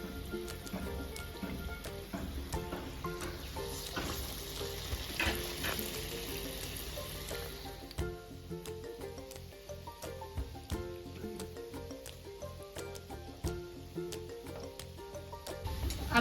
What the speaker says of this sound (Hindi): अब मैं इसे फ्राई करने के लिए डाल रही हूँ। इसी तरह से मैं सारे बड़े एक एक कर डालती हूँ।